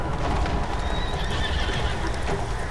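Roach, the horse in The Witcher 3, gives a clear whinny over steady hoofbeats, close and fairly loud, with no speech over it.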